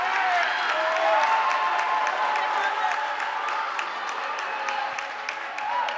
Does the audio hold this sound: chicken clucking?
no